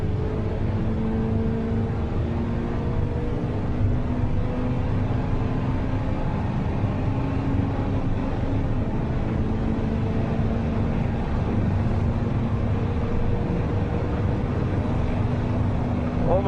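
Honda Civic Type R engine droning hard near the rev limiter on the Nürburgring main straight, a steady loud in-car roar with rising engine tones, heard from inside the car.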